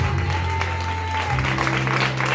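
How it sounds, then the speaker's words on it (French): A church congregation applauds a preacher. Steady, continuous clapping fills the room, loud and diffuse, layered with held organ or keyboard tones. "Acclamons encore pour l'homme de Dieu."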